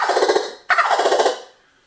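Two rolling turkey gobbles blown on a gobble call with a fluttering tongue, each a rapid rattling burst lasting about half a second. The second starts sharply after a brief pause, close and fairly loud, with no voices.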